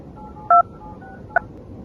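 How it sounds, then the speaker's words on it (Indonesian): Two short telephone keypad tones sound alone against a quiet background as a number is dialed, one longer beep followed by a brief second one. "aku harus telepon Yohana."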